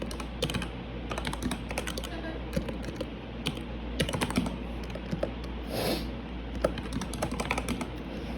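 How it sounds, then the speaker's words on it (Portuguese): Someone typing steadily on a computer keyboard during a history lesson, a continuous patter of close key clicks with occasional louder taps over a low room hum. "Antes, deixa eu escrever aqui."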